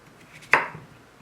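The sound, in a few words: knife cutting fruit and vegetables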